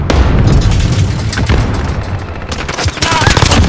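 A grenade blast and bursts of automatic gunfire in the Call of Duty Modern Warfare video game, loud and dense throughout, with repeated booms and rapid shots, and a player's voice shouting over the action.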